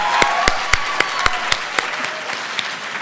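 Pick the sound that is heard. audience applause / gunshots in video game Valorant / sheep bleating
audience applause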